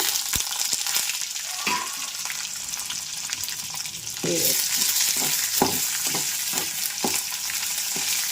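Urad dal and green chillies sizzle in hot oil for gongura pachadi, a steady close crackling hiss with clacks of a stirring spoon against the pan; the frying grows louder midway.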